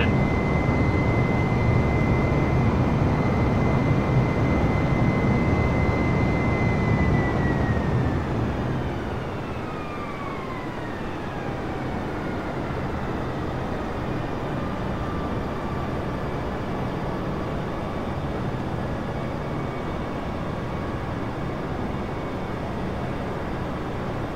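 Airbus A320 airliner in flight in Microsoft Flight Simulator, a steady broadband cabin roar with a whining engine tone that slides downward as power is reduced, the overall level easing slightly partway through.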